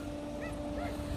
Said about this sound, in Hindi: छोटे छोटे कुत्ते के पिल्ले हैं जी